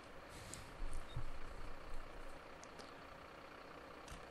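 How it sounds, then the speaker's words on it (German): A fire truck engine idles in the Notruf 112 firefighting simulation game, a low steady rumble with faint hiss and a brief swell near the start. "Dann läuft der Motor."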